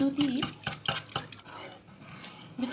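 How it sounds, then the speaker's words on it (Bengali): A spoon stirring yogurt starter into milk in a metal pot for sweet curd, clinking and scraping in a brisk rhythm of several strokes, close and fairly loud, then easing off. "আমি দুটো দইটাকে এইভাবে খুব ভালো করে দুধের সাথে মিশিয়ে নিচ্ছি"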